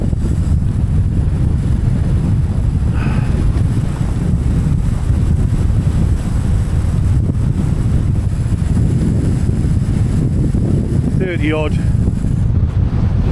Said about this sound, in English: Let's have a little look at the wind again.